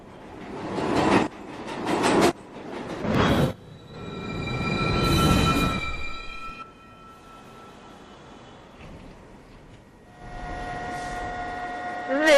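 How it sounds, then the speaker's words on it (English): A NYC Subway 1 train at Fulton Street station gives a few loud rumbling bursts and a long whooshing pass with high tonal whines, then quieter station hum and bright chiming tones near the end. "This is a Rector Street bound 1 train."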